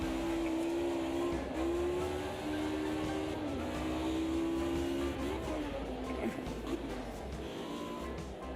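Audi race cars from Automobilista 2 on a circuit, engines holding a steady high drone that shifts pitch with each gear change, loud and continuous, with other cars audible around it.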